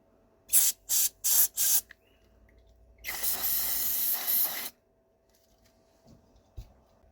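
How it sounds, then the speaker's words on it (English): Carb cleaner sprayed through a blocked jet from a 2001 Kawasaki ZX6R carburetor: four short hissing bursts in quick succession, then one longer sustained hiss lasting over a second, close and loud, with near silence after. "we're still going to give it a spray out with some carb cleaner"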